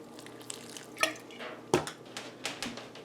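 Water trickles and drips into a freshly planted hanging pot of soil, a few soft splashes and droplets landing close by in a quiet indoor room, with no voices.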